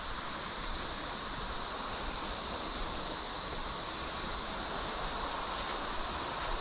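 Armuchee Creek near Rome, Georgia rushes in a steady, unbroken wash of flowing water, with a constant high hiss layered above it throughout.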